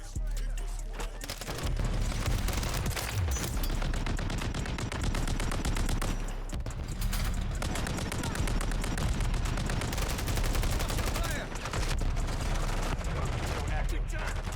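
Rapid automatic gunfire from a first-person video game shooter, loud bursts and rattling volleys nearly continuous with brief gaps, a player's voice talking now and then underneath.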